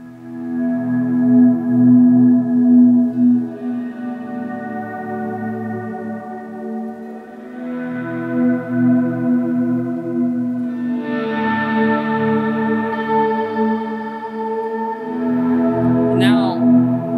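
Shimmer reverb from a Ventris pedal builds into slow, sustained ambient guitar swells, with layered tones that rise and fade across the passage and a brief bright flourish near the end; no voices.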